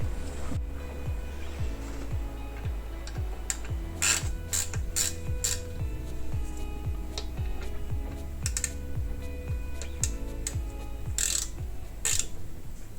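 A ratchet wrench undoes valve cover bolts on a classic Italian sports car, a steady run of close mechanical clicks with occasional sharper metallic knocks, no talking.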